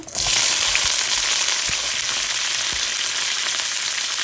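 Mustard seeds spluttering in hot oil while tempering a toor dal vegetable sambar, a steady close sizzle with scattered sharp pops throughout and no voices.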